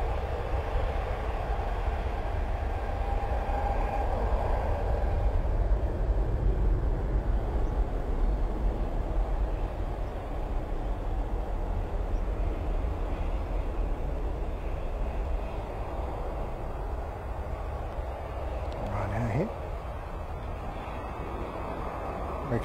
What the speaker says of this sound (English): Next out is a Ryanair, you can hear that just making its way to the holding point